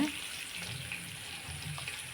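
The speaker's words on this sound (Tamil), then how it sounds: "வாழைக்காயை அந்த தண்ணியிலிருந்து வடித்து எடுத்து வச்சுக்கோங்க" Water drains steadily off soaked pieces of raw plantain into a vessel, a continuous close trickling wash with no talk.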